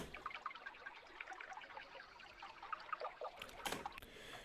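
Recorded water stream run through a Granulator effect with the lows cut: a trickling, bubbling patter of small drips that grows busier and splashier toward the end, fairly faint.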